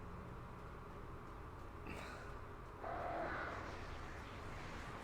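Distant crows caw a couple of times over a low steady background hum in the video game Alan Wake, faint and brief.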